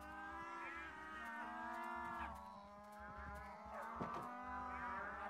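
Minecraft cows moo repeatedly in the game, several long low calls that overlap and carry steadily across the scene with no talking.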